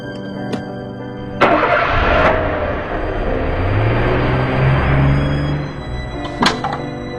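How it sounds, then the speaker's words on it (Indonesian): A laundry van in the video game Evil Nun slams a door, then its engine runs loud and close for several seconds before cutting off, with another thunk at the end. "Dengan sembunyi ikut masuk ke dalam mobil laundry dari si Enda."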